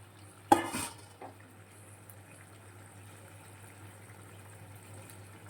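Fried tangra fish and eggplant pieces are dropped into a frying pan, making one short loud clatter and splash, followed by a faint low hum and quiet sizzle. No one speaks.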